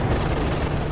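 Cannon fire in the strategy game Company of Heroes 2: a short, dense burst of booming blasts and rumbling gunfire, loud and close with no talk.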